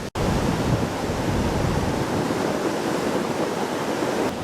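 Surf on Patong Beach in Phuket, Thailand, washes in as a continuous loud roar of breaking waves, steady throughout with no voices.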